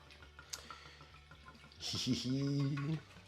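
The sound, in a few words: wine glugging into a SodaStream bottle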